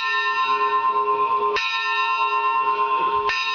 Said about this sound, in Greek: Νταν-νταν, ακούονται έξαφνα οι καμπάνες